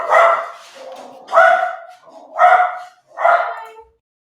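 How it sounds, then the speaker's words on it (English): A dog set off by a doorbell barks four loud, close barks in an even rhythm, each with a short gap, no talking over them. "Sorry about the dog. She doesn't like doorbells."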